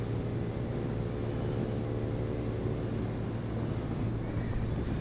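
Honda Beat scooter ridden at full throttle up an incline at night, a steady loud engine drone blended with heavy wind rush across the microphone throughout.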